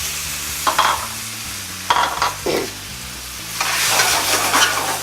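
Shrimp and tofu hit a hot pan with bursts of sizzling and a few sharp clatters, settling into a steady crackle that swells louder toward the end, with no voices.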